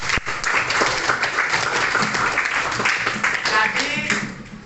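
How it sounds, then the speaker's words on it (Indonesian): Classroom applause from a group of schoolchildren after a student answers a question, dense steady clapping mixed with some young voices, close and fairly loud for nearly five seconds before tapering off. "Tepuk tangan."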